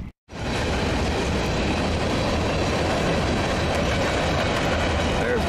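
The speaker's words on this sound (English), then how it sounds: "wide world of trains right there" A train rumbles past nearby, loud and continuous, with a steady roar of wheels on the rails after a brief moment of quiet at the start.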